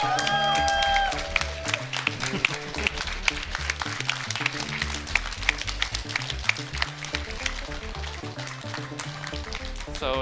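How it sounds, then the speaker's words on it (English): An audience applauds Donkey Kong Country speedrunners after a relay race, clapping loudly and continuously in a dense burst, with a few sharper individual claps standing out and some faint background chatter. "Applaudissements pour les runners de Donkey Kong Country"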